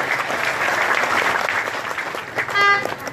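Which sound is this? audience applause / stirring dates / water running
audience applause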